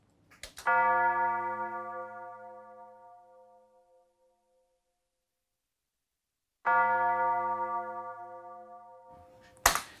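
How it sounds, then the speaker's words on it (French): Deep church bell tolling as part of a rap beat, struck twice with long ringing decays and a silent gap between, close and clear with no voices. "Là, c'est la cloche."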